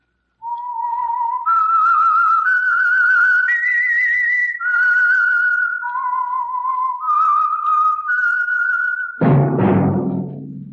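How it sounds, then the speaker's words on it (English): A lone whistler performs the slow, clear opening theme of the old-time radio drama The Whistler, sustained notes ending abruptly as a loud orchestral chord cuts in. "That whistle is your signal"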